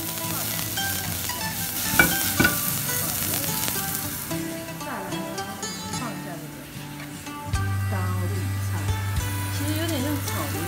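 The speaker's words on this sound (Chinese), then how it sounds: "加入高丽菜拌炒" Cabbage is stir-fried in a hot pan with chili, garlic, scallion, seafood and udon noodles, giving a steady loud sizzle with scraping stirs and clinks while a person talks over it.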